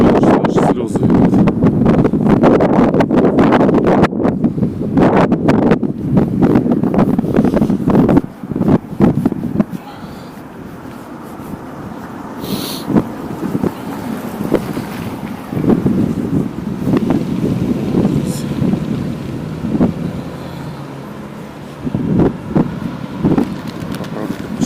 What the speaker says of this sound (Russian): Ветер сильный, что аж слезы идут.